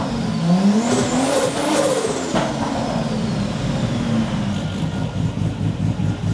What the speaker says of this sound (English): all I'm doing is rowing through the gears and making sure everything is nice